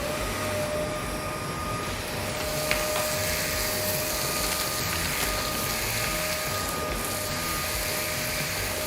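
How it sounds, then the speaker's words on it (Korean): Milwaukee M18 FVC23L cordless wet/dry vacuum sucking up coarse wood dust and chips, a steady, loud whooshing motor roar with a high whine, continuous throughout with no talking. "이 분진을 제가 청소기를 통해서 한번 흡입을 해보도록 하겠습니다."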